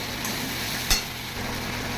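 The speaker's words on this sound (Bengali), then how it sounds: "আমি ভালো করে এটাকে একটু ভেজে নিই" Soybean curry with potato and papaya fries in a pan with turmeric, giving a steady close sizzle with light stirring and a brief louder scrape partway through.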